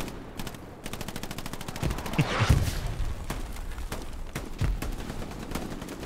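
Rapid bursts of automatic gunfire with scattered single shots and a few heavier booms in the video game Hell Let Loose, continuous and fairly loud throughout, with no talking.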